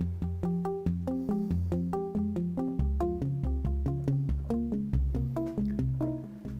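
A Yamaha Montage M synthesizer performance driven by an arpeggio plays alone: a bright, evenly pulsing sequence of plucked tones stepping through changing pitches with a sustained low bass underneath.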